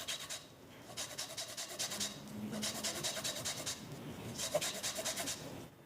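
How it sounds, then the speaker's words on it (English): Lemon zest is grated for a lemon spice layer cake with steady rhythmic rasping strokes, close and fairly quiet, repeating in short bursts with no talk. "But first I want to add some zest, building on that lemon flavor."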